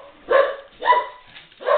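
Three sharp, close barks from a dog, evenly spaced about half a second apart, loud and alone with no talking.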